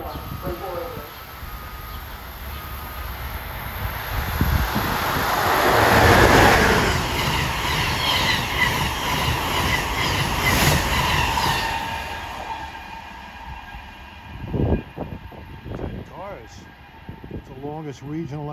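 An Amtrak regional train, number 178 running Washington to Boston, rolls through Princeton Junction, New Jersey: a loud, sustained rumble of a long train passing close by, swelling and then trailing off, with squealing wheels near the end.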